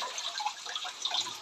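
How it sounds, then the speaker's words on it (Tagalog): Water flowing along a hidden trail outdoors, a faint, continuous trickle and splash over a short stretch with no talk. "Ito yung sura ng tubig natin eh"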